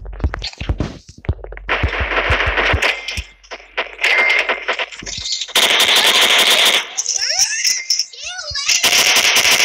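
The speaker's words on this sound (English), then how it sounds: "Then who just shot?" Gunfire in the Roblox game Superhero Tycoon, loud rapid automatic bursts and single shots coming in clusters, with a young voice talking in between.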